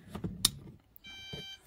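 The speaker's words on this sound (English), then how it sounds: "You will hear a long beep, means the tailgate get power" A Toyota Land Cruiser LC300 electric tailgate unit gives a sustained electronic tone of about half a second once powered, following a few short clicks and taps.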